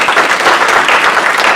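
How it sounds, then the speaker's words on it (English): Audience at an advocacy storytelling event breaking into applause, dense even clapping filling the whole short stretch at close, loud level with no talk. "Should we applaud?"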